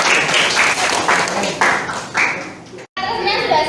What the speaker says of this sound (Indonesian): Kasih aplaus dulu buat kelompoknya Davi